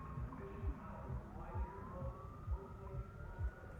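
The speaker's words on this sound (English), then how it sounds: "Police sirens? That actually might be outside my house." A police siren sounds faintly in the distance outside a house, a thin rising wail that stays low and steady beneath a loud background of game noise and a voice talking.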